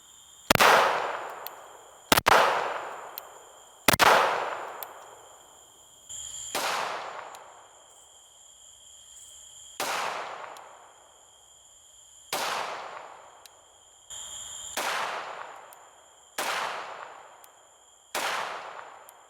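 Ten gunshots from a .509 carry pistol fitted with a Radian Afterburner compensator, fired outdoors at night: sharp loud cracks with long ringing decays, spaced about two seconds apart, over a steady insect chorus.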